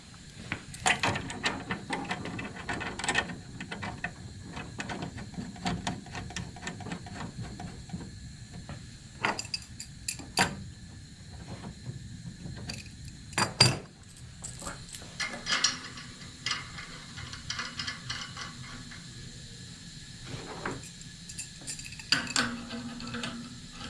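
A hose is fitted to the back of a CryoMill laboratory mill and joined to a safety relief valve on a liquid nitrogen dewar, giving scattered close clicks, ratcheting and sliding clunks of fittings across a quiet background.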